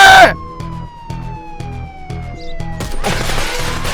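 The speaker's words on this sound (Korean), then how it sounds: "바보같이 사이렌 키다가" Police siren in the video game Contraband Police: a loud, close wail that sweeps downward in pitch over a throbbing engine-like rhythm, then a sudden crash-like burst near the end.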